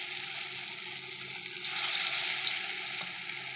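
Dough balls frying in hot oil in a wok give off a continuous, even sizzle, close and moderately quiet, with a faint bubbling texture and no voices.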